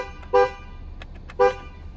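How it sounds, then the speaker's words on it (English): 2019 Ford Edge sounding its newly installed aftermarket double horn: two short, loud, bright honks about a second apart, close by, over a low idling rumble. "here it is, guys, after we installed the double horn"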